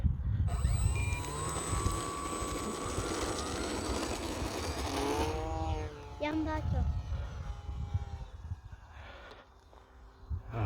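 A radio-controlled T-28 model airplane, electric-powered on a 2200 battery, revs up and takes off, its motor whine rising in pitch then shifting and fading as it climbs away, steady and fairly loud against outdoor background noise.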